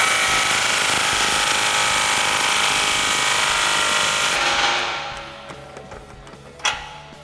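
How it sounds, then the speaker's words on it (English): A pneumatic impact gun with a 17 mm socket tightens exhaust bolts on a 2009-2018 RAM 1500 5.7L during a dual exhaust install, a loud continuous whirring burst that cuts off, followed by a short sharp clank. "we're going to tighten these two up with our 17 millimeter on our gun"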